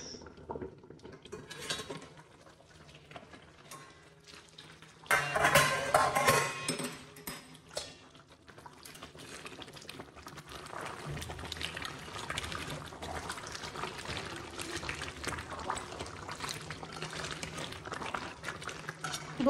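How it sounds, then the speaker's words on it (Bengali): Dishes are scrubbed and rinsed during cooking, with running water splashing, plates and cutlery clinking, and a louder burst of water and clatter midway, all close and without talk. "আর এদিকে আমার রান্না করতে করতে বাসনগুলো মেজে নিচ্ছি"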